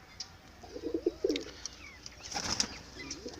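A sick, sluggish pigeon gives a few soft, low coos at close range, faint against a quiet background with some light rustling.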